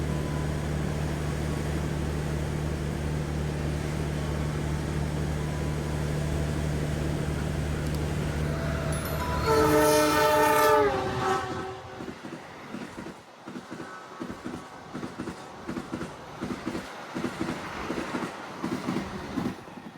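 A horn blares briefly, then an Argo Bromo Anggrek passenger train rumbles past with a rhythmic clatter of wheels over rail joints, following a long steady engine drone.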